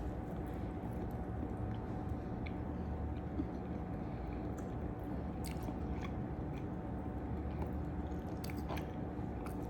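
Close, quiet chewing of a strawberry fluff brownie with marshmallow and chocolate ganache, soft repeated squishy bites and small crunches over a low steady background hum, no talking.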